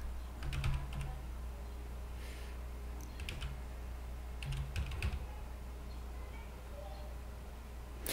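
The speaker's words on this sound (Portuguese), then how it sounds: "Repare que conforme eu vou digitando" Fast, irregular tapping on a computer keyboard comes in light clusters of keystrokes over a constant low hum, close and fairly quiet, with no one talking.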